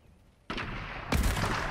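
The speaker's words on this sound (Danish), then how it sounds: "Han har den der grenade launcher der." Grenade launcher in the game Fortnite: a sudden firing thump followed by a louder explosive boom about half a second later, rumbling on to the end of the clip without any talk.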